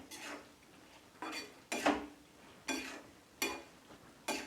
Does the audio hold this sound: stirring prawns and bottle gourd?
yes